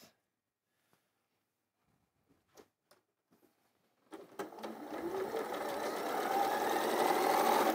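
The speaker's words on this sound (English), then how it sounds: "all I'm going to do is I'm going to sew a few of these together" A domestic sewing machine stitches fabric pieces together at a longer stitch length, starting after a few faint handling clicks and then running steadily and close for several seconds with no talk.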